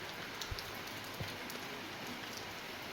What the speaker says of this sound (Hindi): हल्की हल्की बारिश भी हो रही है।